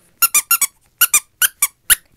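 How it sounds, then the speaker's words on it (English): A squeaky dog toy squeezed eight times in quick, sharp squeaks, two groups of four separated by a brief pause, loud and close with nothing else heard. "It just makes squeaky sounds."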